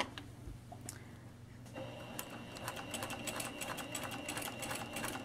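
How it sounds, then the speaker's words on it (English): A sewing machine stitches in the ditch along the binding of a Hong Kong finish, starting after a quiet moment and then running in a fast, steady mechanical patter, close and even with no speech. "So stitch in the ditch means we're going to stitch as close to this as possible"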